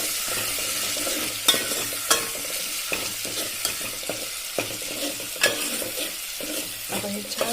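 Tomato and onion puree sautéing in oil over a low flame, a steady sizzle broken by irregular scraping stirs of a spoon against the pan.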